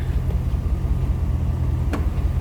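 A 1989 Chevrolet Corvette Convertible's engine idles in a low, steady rumble with the air conditioning running, heard up close and alone, with one brief faint tick; no distinct compressor cycling stands out.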